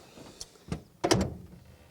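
A couple of light clunks, then a heavier metallic thud as a classic car's hood is shut, close by with faint background noise.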